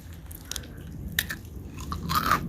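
Close, crunchy bites and chewing of hand-rolled pretzels, a few sharp crunches scattered over about two seconds and growing busier toward the end, with faint rustling behind and no talk.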